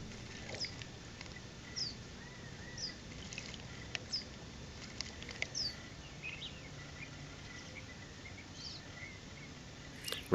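A white-crowned sparrow bathes in a backyard water dish, with soft intermittent splashes and flutters over a quiet outdoor background and faint high bird chirps here and there.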